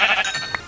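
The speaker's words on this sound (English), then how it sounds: "I thought the sheep will scream much louder" A sheep in the Minecraft video game bleats in short wavering cries, fairly loud and close, ending with a brief higher note.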